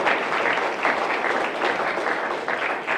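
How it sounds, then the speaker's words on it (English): A talent show audience claps in steady, dense applause, loud and continuous throughout. "Let's clap for her."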